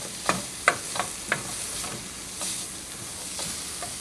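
Onion and curry being stirred in a pot for red lentil soup, a spoon knocking and scraping in a few sharp strokes early on over a soft continuous sizzle.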